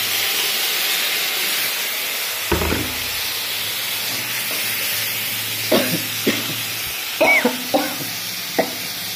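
Mustard seeds, chili and tomato frying in oil: a continuous close sizzle with occasional scrapes and clinks of a stirring utensil against the pan.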